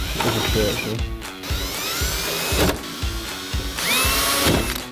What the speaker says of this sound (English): this needed a bit of drilling